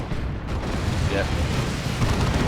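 An artillery barrage in Warhammer 40,000: Dawn of War II, a 3v3 match, rumbles as a dense, continuous roll of overlapping booms and explosions, loud and sustained across the whole stretch with no clear breaks.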